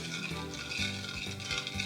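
Raspberry jelly powder stirred into a cup of boiling water, a spoon swirling and scraping in a bowl with soft liquid sloshing, continuous and close with no voices.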